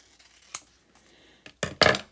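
Scissors cutting through paper transfer sheets for a vine-patterned tray craft project: a few quiet snips early on, then two louder, closer crisp cuts near the end, with no talking.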